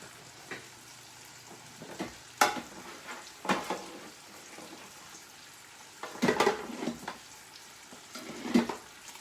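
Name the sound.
eggs frying in a pan for bagel sandwich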